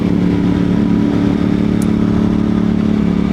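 Moto Morini X-CAPE 1200 motorcycle on the road as the rider rolls the throttle off and back on, the engine drone staying smooth and nearly unchanged, loud and close, with a brief faint click midway.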